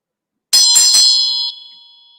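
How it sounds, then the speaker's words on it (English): A single bright bell is struck, ringing out clearly with a long shimmering tone that slowly fades into silence. "Now let's just ring the bell."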